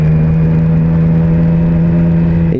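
A Triumph Street Triple S 660 A2 motorcycle engine runs at a steady, loud, close whir with a strong sustained tone, then shifts pitch abruptly at the very end; no talk is heard.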